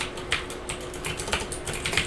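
Rapid typing on a computer keyboard, a steady run of light clicking keystrokes at close range with no voices.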